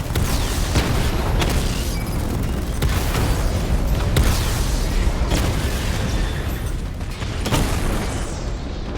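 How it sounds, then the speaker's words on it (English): Heavy 60mm cannon fire in the Batman Arkham Knight game, a dense, loud barrage of booming blasts and mechanical clanks repeating every second or so over a roaring battle din. "Your 60mm cannon will penetrate these heavily armored units, but it'll take a few direct hits to destroy them."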